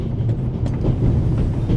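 A train rolling along its tracks in a remastered adventure game, a continuous low rumble with soft rhythmic clatter, steady and fairly loud, with no voices.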